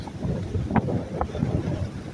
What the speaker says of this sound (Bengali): সাগরের ঢেউ, হাওয়া, উতাল পাতাল